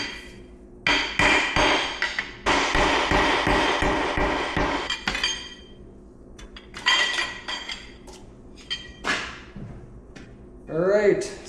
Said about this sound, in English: I've got some aluminum bar. This will fit in there a little bit better, so I'm gonna use this to tap on.